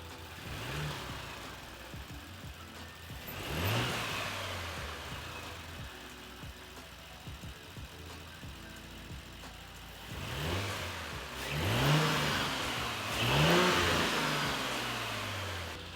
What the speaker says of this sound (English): we'll do some a little bit of revs with the stock intake just to kind of see how it sounds right now